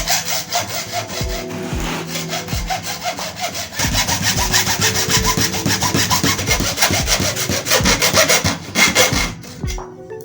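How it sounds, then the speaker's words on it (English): A saw cuts through the top edges of a plastic fruit crate in steady back-and-forth strokes, close and fairly loud throughout, with scraping rubs between strokes and no talk. "First of all, cut the top edges of crate from all four sides."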